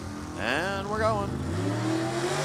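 A 1975 Camaro with a 496 Chevrolet engine launches off the line at a drag race, its engine revving hard and climbing through a gear change, loud and close, with a commentator talking over it.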